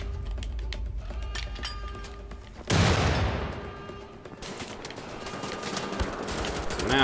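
Assault rifle fire in Wolfenstein: The Old Blood, with quick light clicks followed by a sudden loud burst of shots that rings out and fades before scattered game noise resumes.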